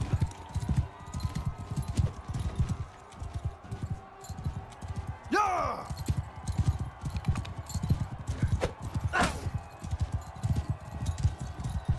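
Horse hooves clip-clop in a steady galloping rhythm in the video game Mount & Blade 2: Bannerlord, close and continuous, with a horse whinny partway through and a voice speaking over it.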